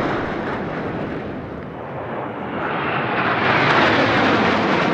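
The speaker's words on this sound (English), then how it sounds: "बास formation going past, all eyes up in the sky" Roar of a military jet formation (Sukhoi and MiG-29 aircraft in Baaz formation) flying past over Rajpath during the Republic Day 2022 fly-past, a loud broadband rush that swells toward the end, with no voices.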